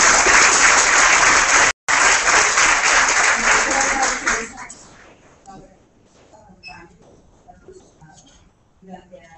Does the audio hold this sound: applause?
yes